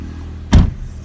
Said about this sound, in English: shut that door